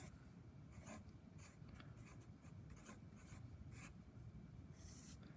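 A pen scratches across paper while a precalculus inequality solution is written out, in quiet, steady strokes with short pauses and no speech.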